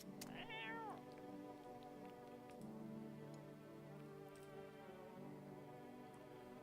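A cat meows once in a rising-then-falling cry early on, set against a steady hum of in-game ambient music in the horror game No, I'm Not Human; no one speaks.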